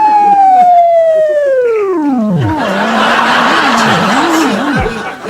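A police car siren starts up loud, with a high wail sliding steadily downward, then settling into a low, wobbly warble that fades toward the end.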